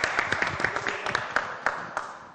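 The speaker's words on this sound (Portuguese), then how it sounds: "Vamos aplaudir, gente!" A church audience applauding a visiting pastor at a Quadrangular church event, scattered claps with irregular louder hits that thin out over a couple of seconds.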